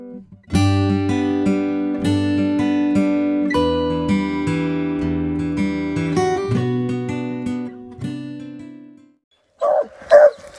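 A pack of hunting dogs, an older dog with pups, bays and bawls in long overlapping howls close by, then falls silent before a couple of short sharp barks at the end.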